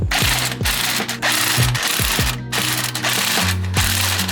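Ratcheting wrench work on a bolt and nut in a car's front suspension, 21 and 24 sized, with rapid repeated metallic clicks and clunks close up, steady and loud with brief pauses.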